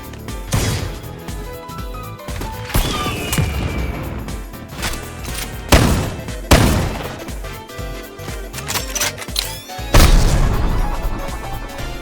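Repeated loud bursts of Roblox gunfire, sharp blasts and crashes spaced irregularly over a busy, noisy background with no talking.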